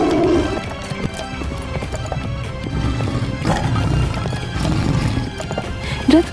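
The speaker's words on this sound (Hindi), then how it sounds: "घोड़े रथ को लेकर अंधाधुंध भागने लगे।" Horses run flat out pulling a chariot, with loud, close hoofbeats clattering over a continuous rumble and a whinny near the start.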